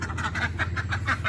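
Ducks being let out of a cage through an orchard quack in a rapid, regular series of loud, close nasal calls, about eight calls in just over a second, with no talk.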